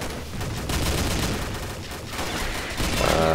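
An M2 Browning machine gun fires in Combat Arms, a rapid rattling stream of shots that continues through the moment, with other gunfire mixed in.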